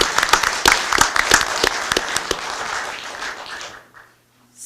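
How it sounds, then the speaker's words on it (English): Audience applause at a city commission meeting, a burst of close, crisp hand claps for about four seconds that thins out and fades to near silence at the end. "All right, we can clap now."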